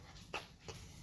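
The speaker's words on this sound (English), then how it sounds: "That was my dog choking" A dog chokes and whimpers in a kitchen, making two short, faint, strained yelps a moment apart against a quiet room.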